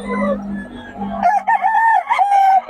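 A young rooster (bullstag) crows once, loud and close, with a rising then sustained call, following a brief stretch of background murmur.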